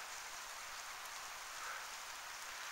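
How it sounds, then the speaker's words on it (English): Steady rain falls during an April ice storm in below-freezing temperatures, a dense even hiss of drops hitting surfaces, faint and continuous with no voices. "It is below freezing. It is raining."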